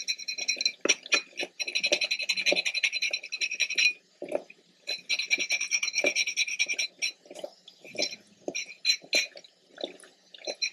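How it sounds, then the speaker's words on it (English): Scales being scraped off the head of a pampano fish: repeated rough, raspy strokes in quick bursts with a brief pause, close and fairly loud, no talking. "Scrape it real well."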